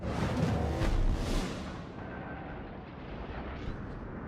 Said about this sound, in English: Got some rounds coming out. They should drop short, and they have.